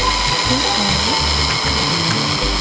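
A kitchen blender whips a bean and egg pâté, a loud, continuous motor whir with a steady high hum and shifting churning tones throughout, with no voices over it.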